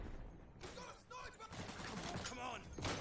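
Lewis machine gun bursts from the World War II shooter Day of Infamy, with rapid, loud shots that continue steadily under a voice.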